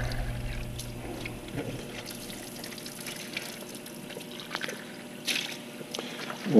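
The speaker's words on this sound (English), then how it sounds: "we're gonna turn the water faucet hose on" Water from a faucet hose runs steadily into a container for mixing fountain solution, a continuous moderate trickle and splash with no talking.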